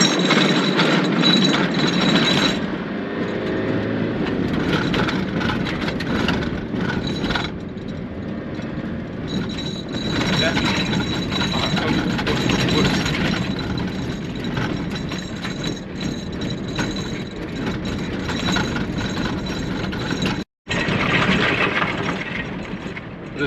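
A car crawls slowly over a rough, badly damaged road on the way to Witbank, giving a steady loud rumble of engine and road noise with knocks and rattles from the bumpy surface throughout, and no talk.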